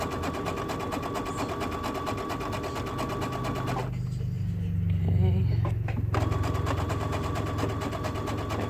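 Sewing machine hums in a fast continuous buzz while stitching a welder cap band, pausing briefly midway to a low rumble and a few clicks before resuming at steady speed.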